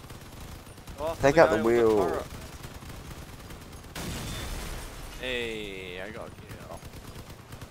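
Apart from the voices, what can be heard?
machine gun fire in the video game Crossout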